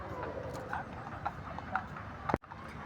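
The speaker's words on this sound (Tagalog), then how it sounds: "Ang dami kasing kabayo doon." Horses at Wright Park in Baguio, hooves clip-clopping in irregular taps over a busy outdoor murmur, with faint voices in the background.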